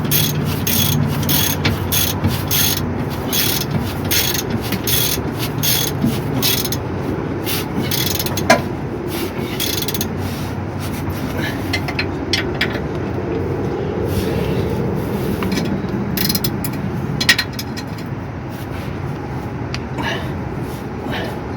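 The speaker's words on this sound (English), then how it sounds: "Don't do that with a snap-on wrench," Snap-on ratchet wrench tightening a rear shock on a 2001-2008 Chevrolet Trailblazer, a steady, rapid clicking of the pawl running continuously for a long stretch, close by over a low background hum.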